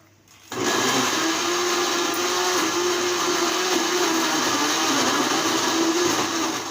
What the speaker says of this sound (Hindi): अब हम इन्हें ब्लेंडर से ब्लेंड कर लेंगे।